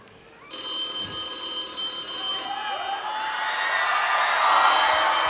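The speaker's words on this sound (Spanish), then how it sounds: "Ese teléfono." A telephone rings on a concert stage during a live show at the Metropólitan, a steady electronic ring with bright repeating tones, loud and continuous, over faint crowd and room noise.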